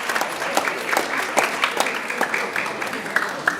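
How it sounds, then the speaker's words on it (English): A school winter band concert crowd applauds warmly, a steady mass of clapping with some distinct nearby claps and a few faint voices mixed in beneath. "give them a round of applause."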